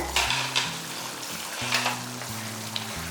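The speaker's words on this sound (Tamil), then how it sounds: "நல்லா கொதிச்சுக்கிட்டு இருக்கு பாருங்க" An onion and garlic kuzhambu bubbles and sizzles in a pan, giving a soft, steady simmering crackle with occasional stirring clinks and a low tonal hum underneath.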